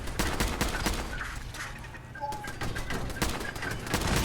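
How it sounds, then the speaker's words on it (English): Gunfire in the Fallout video game crackles as a rapid run of sharp shots, loud and close over steady game background noise. "Now I'm just gonna shoot."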